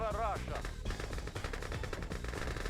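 Conscript infantry fire rifles in the Red Alert 2: Yuri's Revenge strategy game, producing dense, continuous bursts of rapid gunfire that stay loud throughout, with a brief voice at the start.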